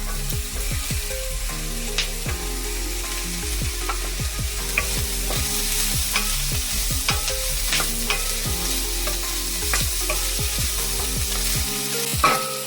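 Carrots and potatoes tossed into onions sautéing in a pan for beef stew: steady loud frying hiss with a quick run of scraping, rattling stirs, no voice present.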